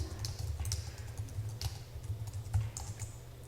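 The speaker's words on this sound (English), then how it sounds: "we're going to hit the enter key and we're going to type in the words join us for this great cause" Steady, fairly quiet clatter of keys on a computer keyboard as a sentence is typed, a continuous run of light clicks with no voices.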